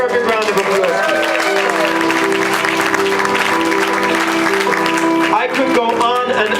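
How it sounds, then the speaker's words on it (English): An audience at a gathering of a movement applauds, a continuous crowd clapping that stays under a loud speaking voice and music throughout. "Diane LeBrecq, can you give her a big round of applause"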